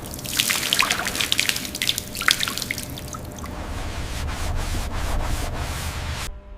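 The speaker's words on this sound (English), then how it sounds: "I spread soap across the armor with a wide sponge, working methodically across each angular surface." A wide sponge works soapy water across the angular armor of a badly damaged Batmobile Tumbler, giving wet rubbing and scrubbing strokes close by with dripping and trickling, which settle into a steadier, softer swishing toward the end.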